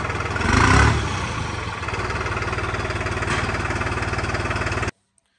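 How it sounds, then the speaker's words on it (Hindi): A 2024 New Holland 3630 special edition tractor idles with a steady, close diesel throb, and a faint turbo whistle runs above it. The sound cuts off abruptly near the end. "टर्बो की आवाज़ आपको सुनाई दे रही होगी ट्रैक्टर में"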